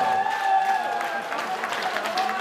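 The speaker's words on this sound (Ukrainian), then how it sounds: "Дайте йому оплески." Steady applause from wedding guests fills the whole stretch, with a high tone and some music-like texture running underneath.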